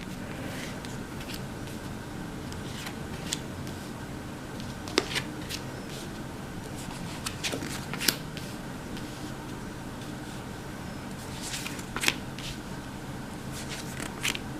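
Tarot cards are shuffled and drawn by hand, soft papery riffling and slides with a few sharper snaps as cards are pulled and laid down, close and quiet with no talking.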